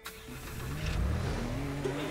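A car engine revving up in the video game Teardown, rising into a steady loud mid-pitched roar for a couple of seconds, close and without talk.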